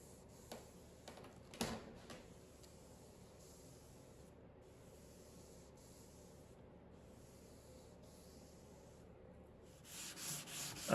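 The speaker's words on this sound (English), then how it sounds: "I sanded everything back a little with a 180 grit sanding sponge to eliminate any little ridges or build-ups" A 180 grit sanding sponge rubs softly over a shellac-finished Danish mid-century sideboard, a faint, close scratching that comes in uneven strokes with brief louder scrapes.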